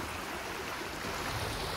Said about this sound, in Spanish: este panteón tiene su río en medio